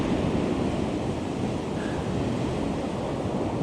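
Rough ocean waves wash onto a beach in a constant loud surf roar mixed with wind buffeting the microphone, no voices present.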